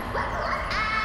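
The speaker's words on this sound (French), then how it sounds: "Oh non, il y a des chiens." Dogs in a Resident Evil 2 Remake mod give a brief whining bark-like yelp over a humming game background, a single short call heard close.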